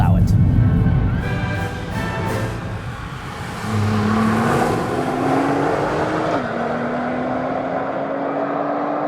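A 2017 Nissan GT-R Premium is driven on the road, its engine loud and near, first a rough low rumble and then a steady climbing drone that briefly drops at a shift before rising again, with someone talking at the start.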